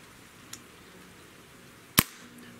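A single sharp crack from a Diana Airbug CO2 pistol, loud and close, preceded by a faint click in a quiet room.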